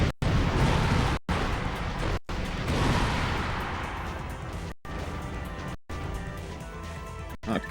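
Rocket fire and explosions aimed at a millipede boss in the Ratchet & Clank 2 finale, heard as a dense, continuous barrage of loud booms and crashes with several abrupt cuts, and no talk over it.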